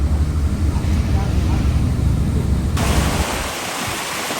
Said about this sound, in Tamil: தண்ணி இந்த ரோட்ல இருந்து இங்கே ஊருக்குள்ளே போய்கிட்டு இருக்குங்க